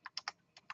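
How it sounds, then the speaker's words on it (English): Keys on a computer keyboard are tapped in a quick, quiet burst of five clicks, close by, with no talk. "I'm tired of typing"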